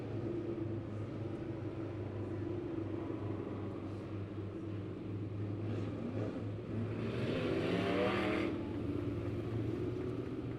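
Race cars run at Lebanon Midway Speedway with a steady low engine rumble that swells as a car revs and passes nearer. The sound stays moderately distant and there is no speech.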